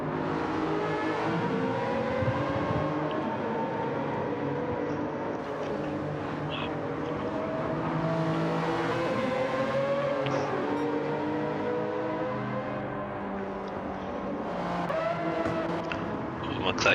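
Gr. 3 class race cars circle Laguna Seca in a racing video game. Engines wail continuously with shifting pitch, and brief tire squeals cut in, all under steady commentary.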